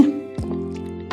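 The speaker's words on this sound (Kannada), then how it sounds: "ಸ್ವಲ್ಪ ನೀರು ಹಾಕಿ ಕಲಿಸ್ಕೋಬೇಕಾ?" Water is poured into flour to mix dough for shengole, a traditional Maharashtrian dish, giving a short close splash and drip sound with a faint ringing tone.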